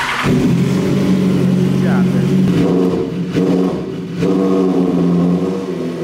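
A motorcycle engine idles and revs steadily as it warms up before a ride, its loud rumble running throughout beneath a man's speech.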